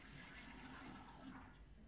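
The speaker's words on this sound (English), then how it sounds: "Gotta remember to flush." A toilet flushes in Spider-Man: Miles Morales, a soft, steady rush of water running continuously for a couple of seconds at low volume.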